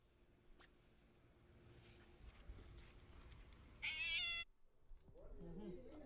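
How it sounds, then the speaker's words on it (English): A cat meows in a video played back on a live stream, a brief bright cry near the middle of the clip set against a quiet room hum and low background noise. "That's a cat."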